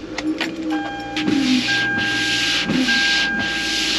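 A car defroster blows air steadily inside a cold car on a frosty morning, a constant broad hiss of airflow that swells louder partway through, with faint tonal hum and a few soft knocks beneath.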